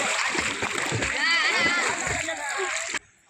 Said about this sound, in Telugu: పైన నుంచి అయితే చాలా మంది జంప్ చేస్తున్నారు